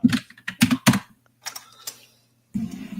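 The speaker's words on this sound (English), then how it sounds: "the professor's breaking that keyboard" Rapid, hard keystrokes hammer a computer keyboard in loud close bursts, pausing briefly before another flurry of clacking typing.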